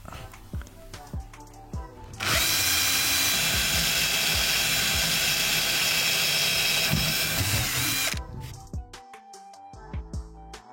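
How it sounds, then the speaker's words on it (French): A power drill bores pilot holes through wooden boards for a van conversion, running loud and steady for about six seconds, with light clattering and handling knocks before and after. "on vient juste de finir pré-percer toutes les planches"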